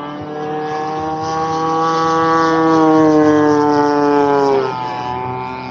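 A model aerobatic airplane's engine runs steadily and loud for several seconds, its pitch rising and sagging unevenly like a rough-running motor, then dropping sharply near the end as it goes through a snap roll.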